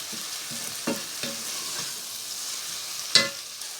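Half-cooked boiled chana dal is stirred in a frying pan over a soft steady sizzle, with scattered spoon scrapes and taps and one sharper clink near the end; no talking.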